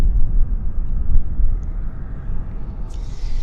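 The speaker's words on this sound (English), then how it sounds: "Hainan Airlines, Dreamliner" A Hainan Airlines Boeing 787 Dreamliner departs Vancouver Airport's north runway, heard as a low, rumbling engine roar that pulses unevenly, with a brief high hiss near the end.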